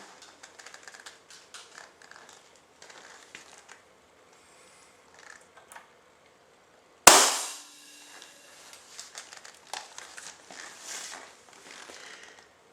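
A single loud, sharp airgun shot fired at 1,000 psi during calibration for bolt handle breakage testing cracks out midway and decays quickly, surrounded by quiet clicks and handling noises before and after.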